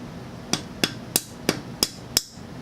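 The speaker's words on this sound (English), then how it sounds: "I got a mallet this time, a rubber mallet, so it won't be as loud when I hammer the back of the chisel" A rubber mallet strikes the back of a chisel wedged between a metal carpet strip and a concrete floor, six sharp, evenly spaced thuds roughly a third of a second apart, close and clear with quiet gaps between.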